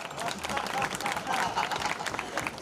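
Audience applause at a Hindi comedy poetry gathering (hasya kavi sammelan), a steady wash of clapping for under three seconds with some voices mixed in.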